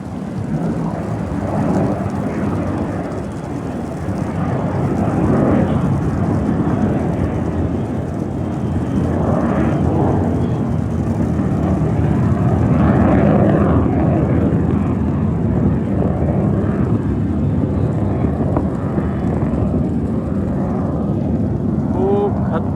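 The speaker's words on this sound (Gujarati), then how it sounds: "અહીંયા બાજુમાં ઇન્ડિયન આર્મીનો એરબેઝ છે, ત્યાંથી ફાઇટર જેટ ફ્લાય થઈ રહ્યા છે." Indian military fighter jets fly over from a nearby airbase, a loud continuous roar that swells and rumbles steadily throughout, with no other sounds standing out above it.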